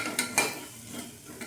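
Chopped onions with chili and turmeric powder stirred in a pan, two or three distinct scraping strokes over a soft background sizzle, close and with no talk.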